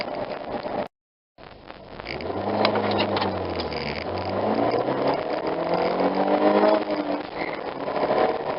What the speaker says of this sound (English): this is going to be your typical 4-cylinder acceleration